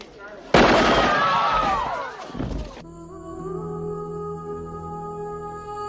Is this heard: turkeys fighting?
no